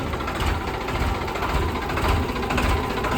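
A Sonalika DI 35 tractor engine runs nearby with a steady, throbbing diesel chug and fairly even loudness for the few seconds heard.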